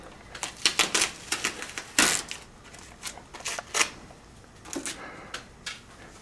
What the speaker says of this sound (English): Then open envelope.